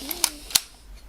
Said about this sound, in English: It's a spring-loaded shutter.